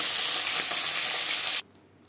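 Tilapia fish fries in oil with a loud, dense hiss and crackle that holds steady for about a second and a half, then cuts off abruptly to near quiet.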